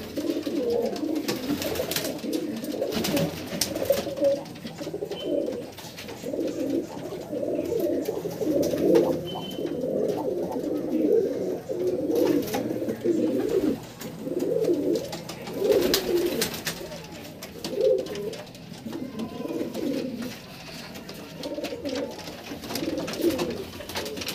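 Domestic pigeons kept as a hobby coo steadily in a low, throaty rolling chorus, several birds overlapping continuously and fairly close, with no voices.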